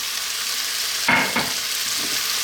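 Chicken, broccoli, onion and noodles stir-fried for chow mein give off a steady close sizzle, broken by a couple of louder scraping stirs in the middle.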